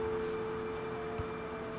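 A steady, faint electronic tone hums continuously like an old telephone line, with a soft background hiss and a brief low knock partway through.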